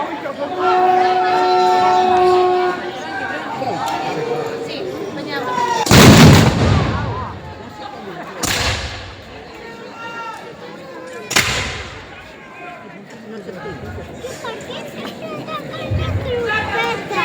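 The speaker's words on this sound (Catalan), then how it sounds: "L'últim tret!" Three loud, sharp gunshots crack out several seconds apart at the Festa dels Miquelets in Olesa de Montserrat, over a murmuring outdoor crowd, with chatter and voices continuing between the blasts.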